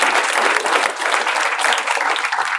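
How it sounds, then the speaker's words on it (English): A crowd at a San Francisco sales panel event claps continuously, a full dense wash of hand claps that holds steady from start to finish. "Round of applause from the SDRs in the house."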